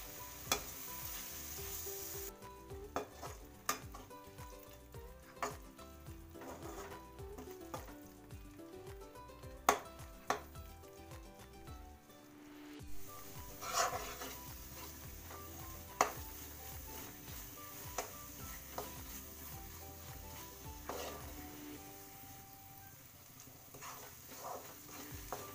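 Peanut and coconut paste fries in a pan with a faint, continuous sizzle, broken by repeated sharp scrapes and knocks of a stirring spoon at irregular intervals.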